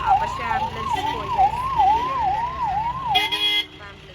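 An ambulance siren wails in a regular rising-and-falling pattern in a traffic block near Ooty, loud and close, ending with a brief blaring horn blast before it cuts off.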